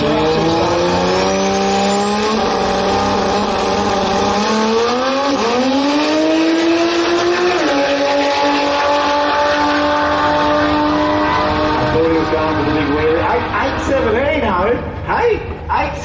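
Drag racing car making a grudge run at a drag strip during a finals day, its engine note sweeping upward through the gears, loud and continuous, with a commentator talking over it throughout.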